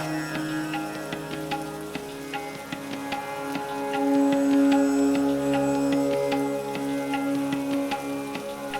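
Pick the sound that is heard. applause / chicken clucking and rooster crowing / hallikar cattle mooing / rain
rain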